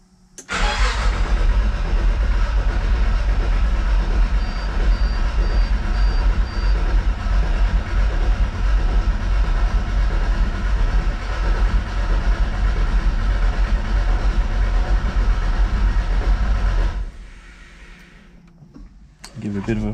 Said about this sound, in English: so I'm just going to crank it, make sure that I get oil pressure